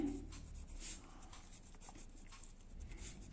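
Pen or marker writing out the area formula during a Class 10 maths lesson on areas related to circles, a soft, continuous scratching and rubbing close to the microphone with no talk over it.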